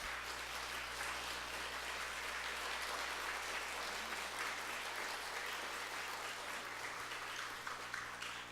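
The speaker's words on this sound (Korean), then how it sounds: "격려하면서 박수 한번 해주세요." A church congregation applauding during a Sunday worship service, sustained, even clapping from a large room full of people that carries on without pause, heard from a slight distance.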